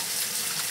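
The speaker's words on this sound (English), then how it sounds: "So rinse these noodles, cold water like this," Cold tap water gushes steadily over noodles being rinsed in a sink, a close, continuous hiss with no talk during the short moment.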